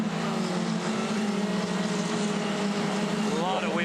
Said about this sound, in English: A lot of wheel spin, even with 160 brake horsepower.